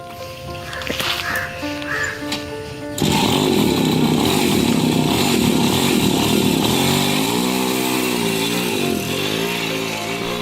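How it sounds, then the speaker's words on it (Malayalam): A homemade bicycle built from scrap parts and fitted with a petrol engine runs loudly and continuously close by, its small engine buzzing with shifting revs after a quieter opening with birds calling. "പെട്രോൾ എഞ്ചിൻ ഉപയോഗിച്ച് പ്രവർത്തിക്കുന്ന സൈക്കിൾ നിർമ്മിച്ചത്"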